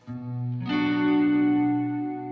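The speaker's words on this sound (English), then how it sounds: "having a reverb built into your guitar itself" Electric guitar notes ring out, then a fuller chord joins and sustains, washed in a lush, spacious reverb from a Mr. Black Mini Reverb pedal with the mix knob turned up.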